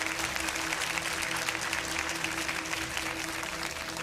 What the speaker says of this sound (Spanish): Se oyó un enérgico revuelo de aplausos de aprobación.